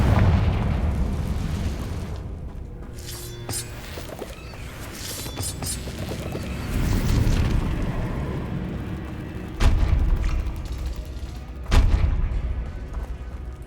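Confringo spell blasts in the Hogwarts Legacy video game, booming explosions and crackling bursts over a rumbling background, with sharp hits standing out near the end.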